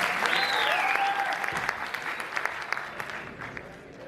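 Spectators give wrestlers a big round of clapping at a Turkmenistan promotion event in Bursa, a loud continuous patter with a tonal voice or music line sweeping over it at first, then thinning toward the end.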